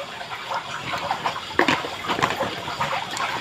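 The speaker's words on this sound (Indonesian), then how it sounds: "langsung saja tambahkan air secukupnya" Water is poured into a dry mix of carp bait pellets with ebi shrimp, a close, continuous trickling and splashing sound with small surges of flow.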